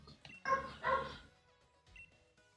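Dogs barking in the background, two loud bursts close together followed by a fainter yip, mixed in with game music.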